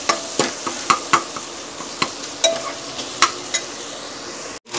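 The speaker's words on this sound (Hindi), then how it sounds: "3 मिनट के लिए मसाला को फ्राई कर लेंगे" Spice masala with coriander powder frying in a pan for lentil dal, a steady close sizzle broken by repeated sharp scrapes of a spoon against the pan in an uneven stirring rhythm, with no talk.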